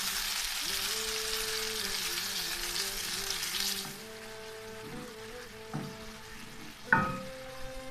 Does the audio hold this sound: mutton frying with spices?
yes